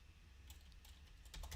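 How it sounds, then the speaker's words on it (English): Quiet typing on a computer keyboard, a few soft scattered key clicks at close range that bunch together toward the end. "I'm just typing in what he's trying to do here."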